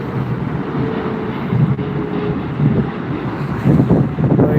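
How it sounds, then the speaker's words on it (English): An Emirates Boeing 777 arriving at Frankfurt Airport makes a steady, loud jet roar mixed with heavy wind buffeting on the microphone, swelling slightly toward the end. "Emirates has arrived."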